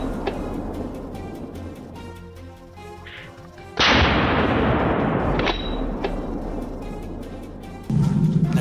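A rifle shot while hunting wild boars across a field bursts loudly midway as a broadband blast that decays slowly, framed by quieter outdoor background and another rise in noise near the end.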